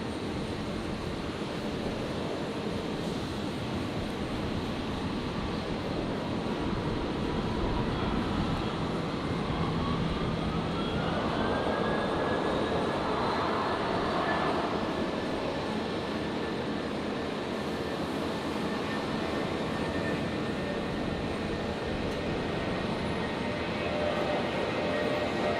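A Jetstar Airbus A320 taking off from runway 01 right at Brisbane Airport, a steady broad jet engine roar heard from a distance, sustained throughout with a rising whine building through the middle.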